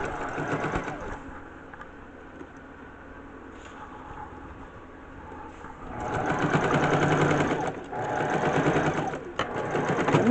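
A sewing machine stitches fabric for a plush dog, a steady fast mechanical whir that runs throughout and grows louder partway through, heard close up without talking.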